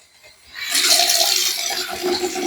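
Water rushes from a newly installed Pfister Vaneri kitchen faucet, starting after a brief quiet moment and then running as a strong, steady hiss close by.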